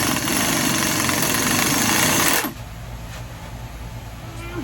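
An impact wrench works on the flywheel bolts of a BMW E46 330ci during a clutch job, a loud, dense rattling burst lasting a couple of seconds before cutting off to a lower steady hum with faint clinks.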